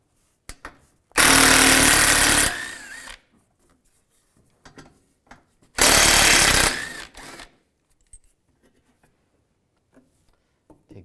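Two long bursts from a power tool removing bolts with a 10 millimeter socket during a front grille replacement on a 2015-2020 Cadillac Escalade, each loud and buzzing, separated by a pause with light clicks and handling noises.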